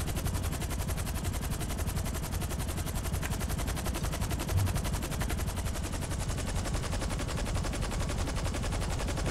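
Rapid, sustained gunfire from an explosive sniper rifle in the video game GTA 5 Online, a dense continuous barrage that fills the whole stretch at steady loudness with no voices.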